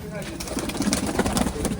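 Domestic pigeons coo on a farm pigeon loft, several birds overlapping in a steady, fairly close murmur with no one talking.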